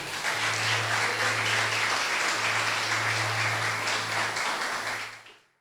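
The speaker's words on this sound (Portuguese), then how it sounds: "Quantos podem aplaudir o nome de Jesus?" A church congregation applauds with a dense, steady wash of many hands clapping at once, sustained for several seconds before fading out at the end, with a low hum beneath.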